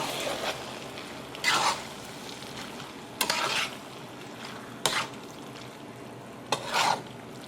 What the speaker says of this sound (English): I'm gonna get that stirred around one more time, and then we're done.